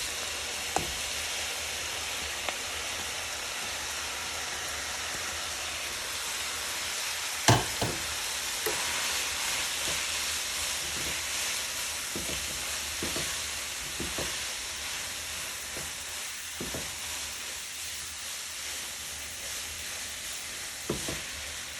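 Cauliflower rice sizzling in a pan, a continuous close hiss of frying with scattered light clicks and taps from stirring, no talking.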